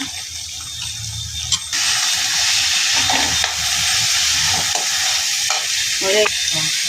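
Chopped onions sizzle in a hot pan with a little salt while a spoon stirs them, a steady frying hiss broken by scraping strokes and brief clatter.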